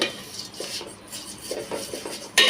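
Vermicelli (semai) frying in oil in a pot, with scraping and clinking of a utensil against the pot, broken rustles and a louder clatter near the end; no talking.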